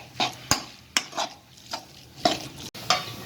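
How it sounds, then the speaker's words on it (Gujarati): A hand churner mixes puran filling in a kadhai on a gas stove, giving rhythmic swishing and scraping strokes with sharp metallic knocks against the pan, close up and with no speech. "હવે આપણે વલોણાથી પહેલાં આપણે એને મિક્સ કરી લઈશું, એટલે આપણને વાટવું ના પડે"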